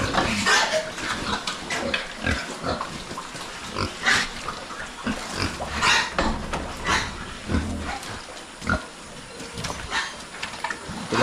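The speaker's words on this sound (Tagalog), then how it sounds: "Yung aming barako mga kaprobinsya, ipalabas namin." A boar on a farm grunts and snorts repeatedly at close range, over a rough, busy background of rustling and movement.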